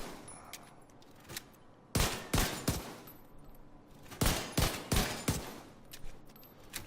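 Pistol fire in the video game The Division, two clustered volleys of sharp, fairly loud shots in quick rhythm, separated by a quieter stretch with faint game ambience.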